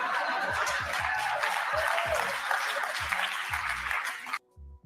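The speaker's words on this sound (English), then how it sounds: "they give him the hand clap" Audience applause at a Tim Wise speech, a steady wash of clapping with scattered chuckles lasting several seconds before cutting off abruptly, followed by a brief quiet tail.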